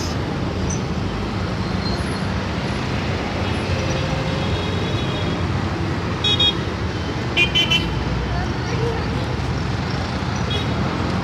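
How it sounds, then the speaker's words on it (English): Steady, dense traffic noise at a busy intersection with no traffic lights in Galle, Sri Lanka, a continuous roar of cars and buses close by, with a few brief horn toots. "Major intersection, no traffic lights."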